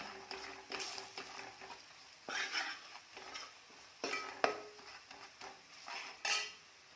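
Close stirring and scraping of a spoon in a pan, in repeated bursts, as spice masala is sautéed, with a soft sizzle of oil underneath.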